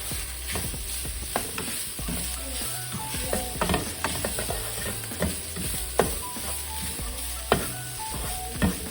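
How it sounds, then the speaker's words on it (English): Seasoned ground meat sizzles steadily as it toasts in a skillet, with intermittent scrapes and clicks of stirring. Faint music plays underneath, and no one speaks. "it does help to let it toast like this with the spice on there for a few minutes"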